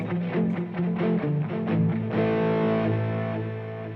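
Electric guitar played through a Line 6 Helix with extra reverb added: distorted, close notes and chords ring out in a steady run, then a long sustained chord decays smoothly toward the end.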